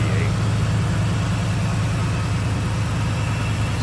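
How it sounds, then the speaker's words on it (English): A 1986 Chevrolet Camaro IROC-Z28 with a 305 V8 idles steadily, a smooth low rumble with an even pulsing rhythm, close and alone with no talking. "And as you can see, nice smooth running V8."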